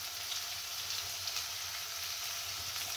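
Sugar sprinkled into hot oil in a home kitchen while preparing a Bengali fish dish, giving a steady, close sizzling hiss that runs unbroken and fairly quietly, with no talking.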